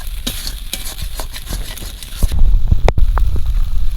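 Spice paste stir-fried with a splash of water for a village-style fish curry, a loud close sizzle with rhythmic spatula scrapes and knocks against the pan that swells into a harsher bubbling hiss midway.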